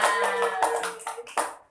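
A school class claps together indoors in a short ragged burst of hand claps that overlap with ringing room tones before tapering off quickly.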